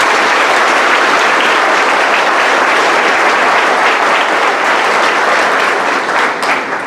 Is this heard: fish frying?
no